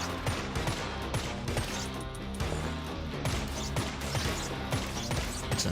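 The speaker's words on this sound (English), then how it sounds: "How big is the explosion here?" Explosions and rapid gunfire in the video game Undead West form a dense, continuous barrage of cracks and crashes with no voices over them.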